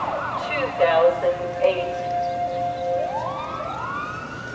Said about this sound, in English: With the siren, we signal the begin of the Diller Picnic Parade